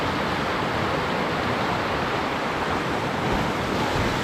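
Rushing water at Anguthi Sunai waterfall, a dense, steady roar of broadband noise that stays loud and even throughout, with no talking.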